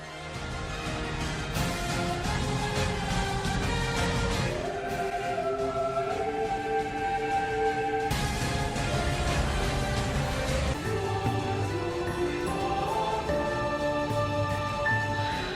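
An eerie orchestral track from the Final Fantasy VII Remake video game, with sustained layered tones and shifting melodic lines, steady in level throughout, no speech.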